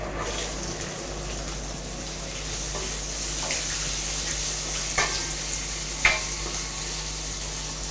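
Curry leaves, onion and dried red chillies crackle and sizzle steadily in hot oil with sesame seeds for pepper rice, a close, continuous frying hiss with a few sharper pops near the end.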